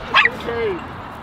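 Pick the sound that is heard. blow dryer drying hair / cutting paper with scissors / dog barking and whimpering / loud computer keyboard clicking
dog barking and whimpering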